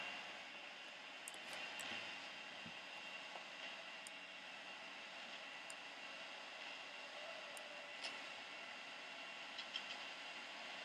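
Boeing 777 engines at takeoff power in the X-Plane 10 flight simulator, a steady, moderately quiet broadband roar holding even throughout with a few faint high clicks on top.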